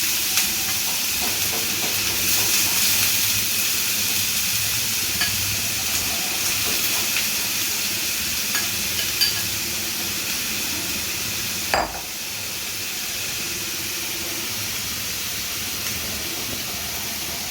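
Grated carrot for gajar ka halwa hissing and steaming in a pan as it is stirred, a dense, even sizzle with faint scrapes, then one sharp knock of a utensil before the hiss settles lower.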